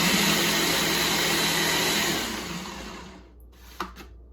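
A food processor mincing basil for avocado pesto runs with a loud, steady motor roar that winds down and stops, then a single clack follows.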